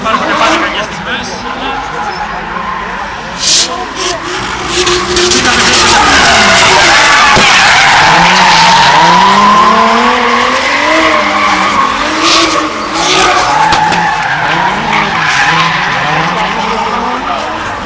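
Drift cars at an a.t.s drift 2008 event, tyres squealing and skidding through long sliding passes with engines revving hard, loud and sustained, under Greek commentary and faint crowd noise.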